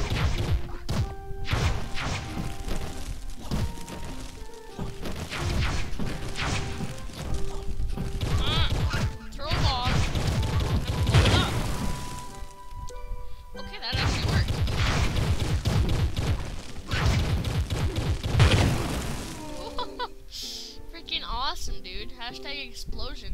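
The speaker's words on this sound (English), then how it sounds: "Hashtag explosions." Bombs thrown down and exploding in the game Trove, a dense chaotic stretch of crashes, thuds and booms over game music with a player talking throughout.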